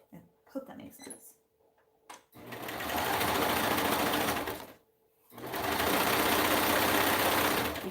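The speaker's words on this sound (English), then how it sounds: "So I sew down this side, and then I sew the crotch area" A sewing machine stitches a garment seam in two long, loud, steady whirring runs separated by a short pause, with soft handling noises before the first run.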